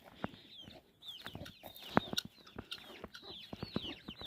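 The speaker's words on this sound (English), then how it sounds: "Better put some more food down for Mama and her chicks" A hen clucks softly and her chicks peep in high, quick chirps, close by in a farmyard, with scattered light knocks and rustling between the calls.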